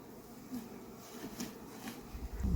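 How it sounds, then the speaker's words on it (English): Honeybees buzz around an opened horizontal top-bar hive during a honey harvest, a faint continuous hum with soft swells as insects pass near, ending in a brief low thump. "be ready to brush the bees off the comb"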